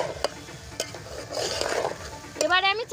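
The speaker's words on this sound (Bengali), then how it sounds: "এবারে আমি ডাল দিয়ে দেব, নেড়ে দেব, খুব ভালো করে নেড়ে কষে নিতে হবে অল্প সময়।" Lentils for a festival khichdi stirred and fried in a pan, a spoon scraping in quick separate strokes over a steady soft sizzle, ending in louder rattling scrapes.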